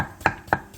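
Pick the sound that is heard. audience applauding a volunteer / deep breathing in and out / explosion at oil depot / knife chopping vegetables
knife chopping vegetables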